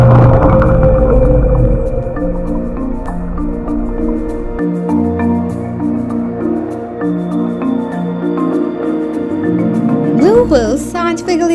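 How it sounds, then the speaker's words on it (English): A blue whale gives long, low, droning calls with steady tones, first alone and then under a narrating voice, with a rising warble near the end. "the magnificent blue whale"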